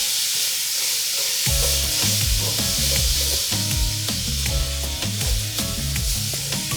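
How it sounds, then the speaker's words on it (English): Ground turkey fries in a roomy 5-quart saucier, giving a steady, close sizzle with stirring and scrambling scrapes throughout and a low, rhythmic rumble underneath; no one speaks. "So we're just going to cook this, scramble it up"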